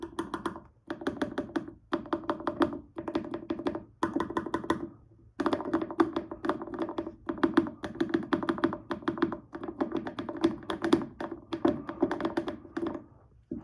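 Clicky key presses on a modded Sayo Device macropad, fast bursts of tapping in rhythmic clusters with brief pauses between, close and clear, with no talking.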